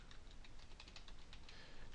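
Rapid keystrokes on a computer keyboard while entering an internet Morse code server's details, a steady close run of light clicks with no talking.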